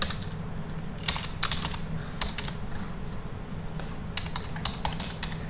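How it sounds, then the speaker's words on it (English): Typing on a computer keyboard while entering R code, close clusters of quick key clicks in short bursts over a steady room hum, no talking. "And here let's type here"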